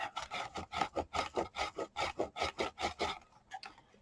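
Rapid rhythmic scraping rubs back and forth across a Halloween craft piece, about a dozen close, even strokes that slow and fade near the end, with no talking.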